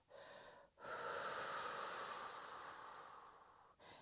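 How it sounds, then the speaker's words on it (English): A long, forceful exhale during a breathing exercise, a sustained airy rush lasting about three seconds, framed by shorter breaths before and after, close and alone. "Exhale out all the breath."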